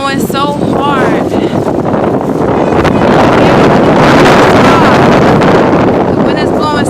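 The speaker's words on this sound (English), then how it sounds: "The wind is blowing so hard." Strong winter wind in New York City buffets the microphone with loud, continuous roaring rumble, drowning a nearby voice that talks through it.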